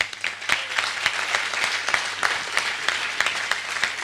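An audience at a hilloula gathering in Marseille applauds in a continuous crowd of clapping, with sharp individual claps popping out of the steady patter throughout.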